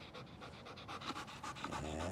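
A tired puppy named Bang pants after a long training session, a rapid, steady rhythm of close breaths that continues throughout, alone without talking.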